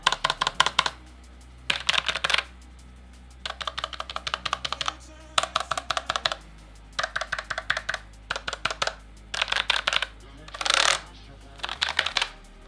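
Typing on a Logitech MX Mechanical keyboard: bursts of rapid clacky keystrokes in short runs separated by pauses, close and crisp over a low hum.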